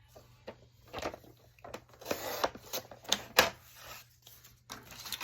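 Paper being cut with a handful of close, uneven snips and slicing strokes, each a short rasp separated by quiet gaps, with no one speaking.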